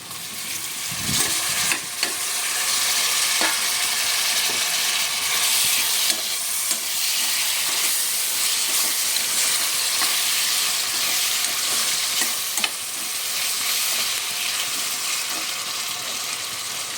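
Onion and tomato fry in oil for a soya granules curry, making a steady close sizzle with repeated scraping stirs of a utensil against the pan. No one speaks.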